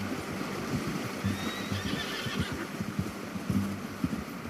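A horse in the video game Red Dead Redemption 2 whinnies with a rising, shrill call over hoof clip-clop and ambient outdoor noise, fairly close and loud.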